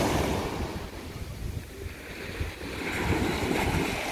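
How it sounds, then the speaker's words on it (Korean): Strong ocean waves roll and crash continuously at Samcheok beach in Korea, a broad steady roar of surf mixed with wind buffeting the microphone. "해변. 파도가 셉니다."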